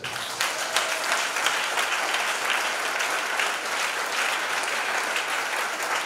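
A church congregation breaks into loud, sustained applause for the Lord, a dense continuous clapping that fills the room evenly for several seconds.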